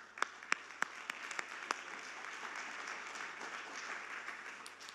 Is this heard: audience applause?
yes